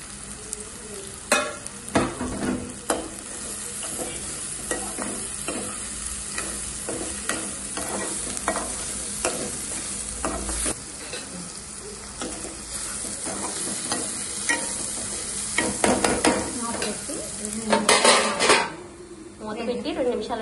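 Dried prawns and onions frying in oil for a taro curry, a loud continuous sizzle broken by frequent scraping and clanking of a spoon against the pan, with a voice speaking at times.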